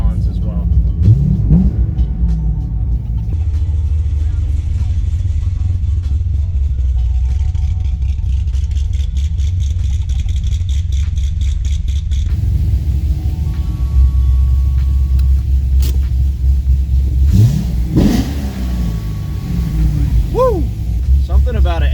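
A Corvette C6 Z06 with its naturally aspirated LS7 V8 drives along, a steady loud deep engine rumble with road noise that swells and revs near the end.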